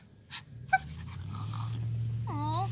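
A dog at home gives a short yelp, then low snuffling and growling grumbles, ending in a brief whine; close and moderately quiet, with no talking.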